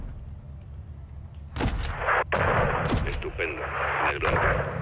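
Gunfire and artillery booms in the Call of Duty Modern Warfare 2 (2022) campaign, with sharp loud blasts and a sustained roar of combat noise, heavy and close, and soldiers' voices shouting over the fighting.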